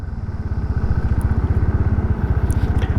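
A Hero Xtreme 160R 4V or Bajaj Pulsar NS160 motorcycle slowing from about 65 under combined rear and front braking, a loud close engine thrum pulsing rapidly and steadily with slight clatter.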